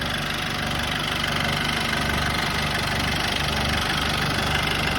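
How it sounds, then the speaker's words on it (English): A Land Rover Defender's 200 TDI diesel engine, largely rebuilt and with a small oil leak, idles close by with a steady, gruff knocking rattle and no voices. "But it's a 200 TDI engine"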